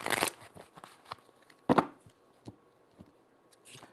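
Tarot cards being shuffled by hand, a few short papery riffles and bursts, the loudest near the start and middle, with softer card slides and taps between them, close and alone.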